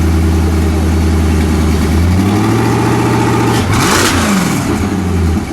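A silver 2008 Koenigsegg CCX with a twin supercharged V8 idles loudly and close by, then climbs through a rising rev, blips sharply to a peak near the end and settles back, with no talking.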